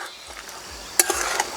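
A few short spoon scrapes and clinks in a pan as fried mourala fish is stirred with bottle gourd greens, clustered near the end after a quiet start, with a faint simmer underneath.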